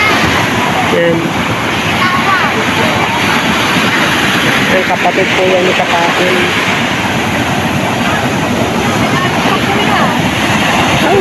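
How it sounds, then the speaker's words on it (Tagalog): Large sea waves surge and wash loudly around a small motor boat, a continuous rushing roar with voices talking over it. "Yan, lalaki po ng alon, mga kamarge."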